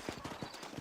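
Horse hooves clip-clopping in the Western video game Red Dead Redemption, a quick, steady, soft rhythm of hoofbeats at a walk, faint and close, with about six clops in under a second.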